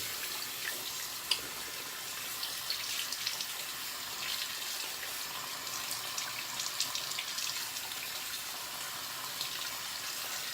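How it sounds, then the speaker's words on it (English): Tap water runs steadily into a sink as it warms up before a shave, a continuous soft hiss and splash heard alone at moderate level for the whole stretch, with a small bump or clink near the start. "like heating up my razor a little bit, so I'm waiting for the water to get warm"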